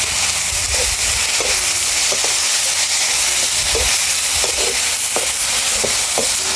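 Local hill mushrooms and spices fry in a pan with a loud, steady sizzling hiss and scattered crackles and pops, close up and continuous, with no talking.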